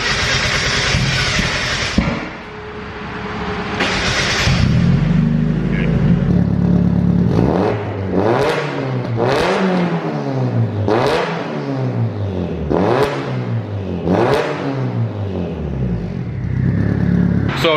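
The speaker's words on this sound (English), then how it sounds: "I'm gonna start this thing up for you guys again just so you can hear the exhaust" A turbocharged Mazda Miata engine starts up and idles, then revs hard in a series of rising and falling bursts, loud and close, with a raspy exhaust tone.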